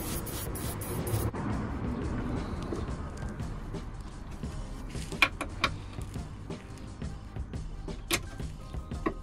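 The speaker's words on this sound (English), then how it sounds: "just get a bit of WD-40 or something on the fixings up here." WD-40 lubricant sprayed from a can onto the front suspension fixings of an Alfa Romeo Giulietta during a control arm replacement: a hissing burst at the start, then workshop clatter and knocks, close and moderately loud.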